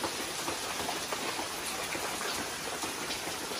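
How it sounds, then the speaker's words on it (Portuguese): Light early-morning rain falls steadily as an even, soft hiss of drops with no other sounds over it. "Olha a chuvinha que tá aqui."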